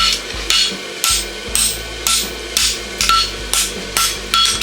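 Hammer bumping steel on an anvil while forging a small 1/2 by 3/4 inch roadster horseshoe, with a steady series of about ten loud, ringing metallic strikes at an even rhythm, close and alone.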